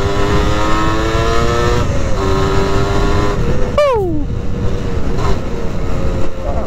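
A Modenas Dinamik 120 two-stroke motorcycle with a 118cc engine revs up close, its buzzing, rising engine note climbing and falling loudly, with a sharp rev spike midway and no talk over it.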